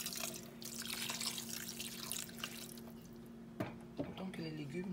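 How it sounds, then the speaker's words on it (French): Water trickles and drips into a pot of salted fish broth on the stove, a steady light splashing with a few sharper drops toward the end, close and fairly quiet. "je vais ajouter un tout petit peu d'eau"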